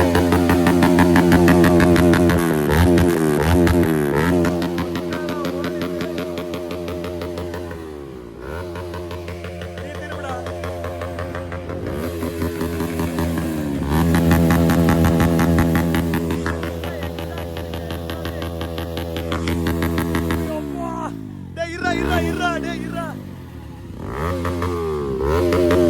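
Several motorcycles, including a KTM Duke 200, Bajaj Pulsar NS200 and NS160, and a Bajaj 400 with an Akrapovic exhaust, rev hard in turn, loud and close. Throttle blips rise and fall continuously with rattly exhaust bursts.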